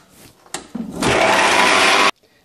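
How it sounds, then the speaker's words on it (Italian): A stand mixer's motor kicks in after a couple of soft clatters, churning strawberry puree, quark and sugar with a loud, steady whirring roar for about a second before cutting off abruptly. "Mettiamo il quark, mettiamo lo zucchero e azioniamo la nostra planetaria."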